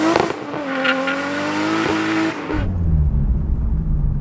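Toyota Supra MKIV with a single turbo accelerates hard, its engine note climbing loud and close through a gear, then dropping to a lower rumble after a brief lift.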